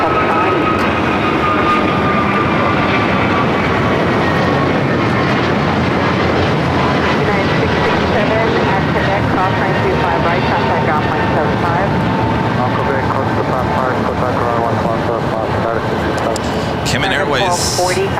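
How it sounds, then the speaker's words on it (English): A Cayman Airways Boeing 737 MAX 8 bound for Georgetown taxis at LAX, its steady engine whine and broadband jet roar close and loud throughout, with talk over the top. "737 MAX 8 heading to Georgetown. Currently on taxiway Kilo."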